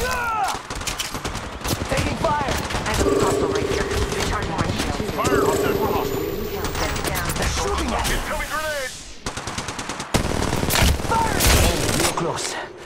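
Dense bursts of automatic gunfire from the mobile battle-royale shooter Apex Legends Mobile, in loud rapid volleys that run almost without pause under game effects and shouted voices.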